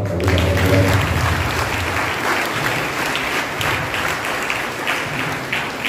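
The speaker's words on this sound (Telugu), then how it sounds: "ఒకసారి గట్టిగా చప్పట్లు కొడదాం." Loud sustained clapping from a church congregation at Holy Mass, a dense wash of hands with a brief sung or spoken tone at the start, continuing evenly to the end.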